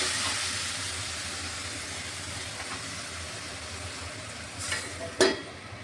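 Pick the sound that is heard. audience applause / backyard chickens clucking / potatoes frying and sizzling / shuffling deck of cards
potatoes frying and sizzling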